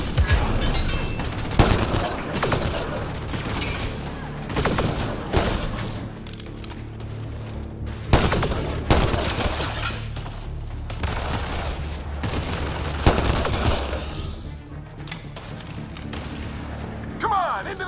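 Gunfire in the Mass Effect video game rattles in repeated sharp volleys with heavy booms, loud and close, pausing briefly between bursts while voices shout over the shooting.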